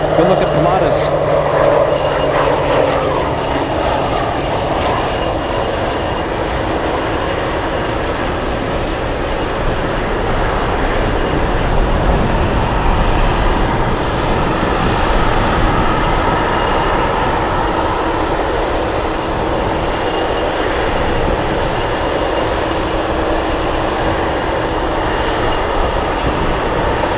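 Pilatus aircraft engine at Anchorage airport on a gusty day, a steady broadband roar holding loud and even throughout, with wind noise and a voice talking over it.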